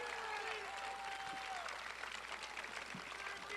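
Crowd applause at an Ivanka Trump campaign rally in Canfield, broad and continuous but somewhat distant, with faint whistles and voices mixed into the clapping.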